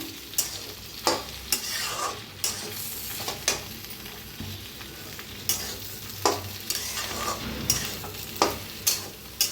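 Okra with garlic masala sizzles in an open pan while a spatula stirs it, giving a steady frying hiss broken by regular sharp scraping clacks against the pan, close and with no talking.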